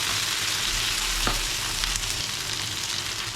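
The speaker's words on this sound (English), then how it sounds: "The fish has been cooking another 5 minutes roughly. We'll try turning it again." Dorada fish sizzling steadily in a frying pan, a constant close crackle of hot oil with one brief scraping stir partway through.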